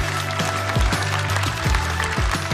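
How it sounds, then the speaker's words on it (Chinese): A studio audience at a Chinese stand-up comedy show claps in a continuous, fairly loud burst of applause, with low thumps and no speech over it. "掌声送给侯志源"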